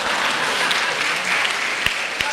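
Audience at a Hindi satirical poetry recital claps steadily in dense, continuous applause throughout, with a couple of sharper individual claps near the end.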